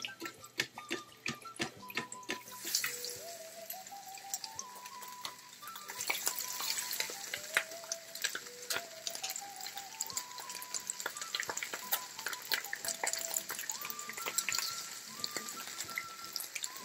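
Egg frying in hot oil in a pan, sizzling and crackling steadily throughout with bursts of spattering and a faint whistling tone above, no talk.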